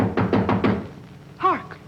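Knocking on a door in a classic comedy film, four firm evenly spaced knocks close by, followed by a brief voice.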